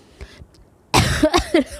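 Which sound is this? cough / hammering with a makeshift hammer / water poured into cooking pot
cough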